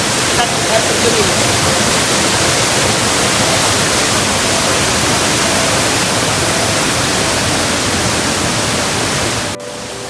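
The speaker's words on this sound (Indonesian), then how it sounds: "Air terjun cantik yang tersembunyi di Jatiluwih." Hidden waterfall at Jatiluwih village, Tabanan, Bali, roaring as a steady, loud, broadband rush of falling water close by, unbroken for nearly ten seconds before dropping slightly in level at the very end.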